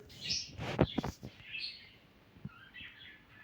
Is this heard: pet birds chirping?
yes